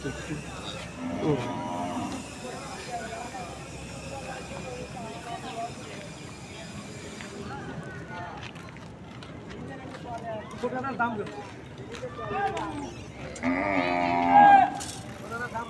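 Cattle moo at a busy cattle market in Narayanganj, with several long lowing calls rising above steady crowd chatter and someone talking nearby, and one louder, closer moo near the end.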